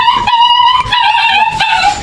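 A puppy yaps and whimpers excitedly at home as a family member arrives, a loud, close run of high, repeated barks and whines.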